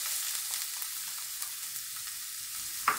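Onion dropped into already hot oil for a tuna rice dish, giving a steady, fairly faint sizzle throughout with a few light stirring scrapes and one sharper clink near the end; no one speaks.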